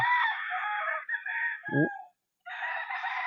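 A rooster crows loudly and close, a long harmonic call with a brief low cluck midway, then a short pause before a second crow begins.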